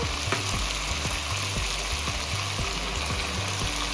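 Continuous loud sizzling of Shankar fish masala frying in oil, with soft rhythmic scraping strokes underneath as turmeric powder is stirred in.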